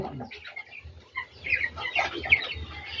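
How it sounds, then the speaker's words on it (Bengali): A flock of broiler chickens around twenty days old clucks and chatters close by, a continuous busy stream of soft calls with no talk. "এই হইলো আমার ব্রয়লার মুরগিগুলো।"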